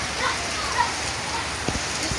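Heavy rain falls steadily in Bataan in the aftermath of Typhoon Tino, a dense, even hiss of downpour with a few sharper drops near the end and no voices.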